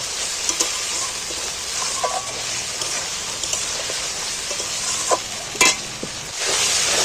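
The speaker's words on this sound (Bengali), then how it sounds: "আদা রসুন দুটোকেই একটু তেলের মধ্যে ভেজে নেব" Ginger and garlic paste fries in hot oil in a pan for a home chicken curry, a continuous close sizzle broken by sharp scraping stirs of a spatula, no speech.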